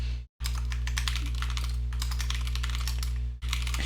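Rapid typing on a computer keyboard, a dense patter of close, crisp key clicks with brief pauses, over a steady electrical hum.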